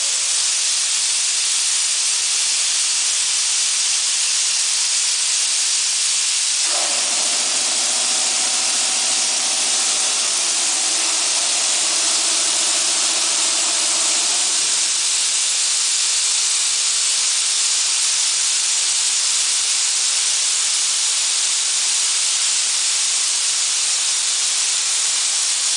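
Compressed air blasting from a pneumatic-spring actuator: a loud, continuous broadband hiss lasting the whole stretch, with a lower tonal whine and rumble swelling in for several seconds midway, no talk.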